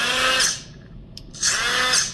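Brushless motors in a Nerf Perses blaster rev up twice as the rev trigger is pushed, each burst a loud, high whirring whine lasting about half a second, separated by a quieter pause.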